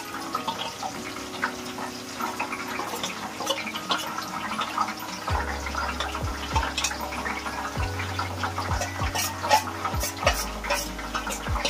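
Mushrooms fry in a pan until crispy, giving a steady sizzle with scraping and stirring noises and occasional low clunks of a spoon or pan throughout.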